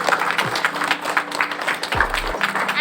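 A school audience applauds at a science exhibition, a dense, continuous patter of many hands with a few voices and low tones mixed in.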